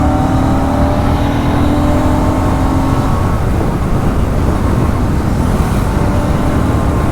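Royal Enfield Classic 650, a heavy motorcycle, ridden through crowded traffic, its engine rumbling steadily and loud the whole time amid dense road noise.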